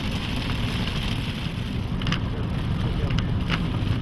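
Heavy thunderstorm rain pours down near Bandiagara by the Niger River, a steady dense roar of drops close by with no break and no thunder standing out.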